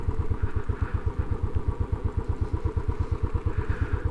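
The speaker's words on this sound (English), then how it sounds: "I'll get the bike parked" A Royal Enfield Classic 500 motorcycle idles at close range while being parked, its single-cylinder engine thumping in a fast, even, loud pulse that stays steady from start to finish.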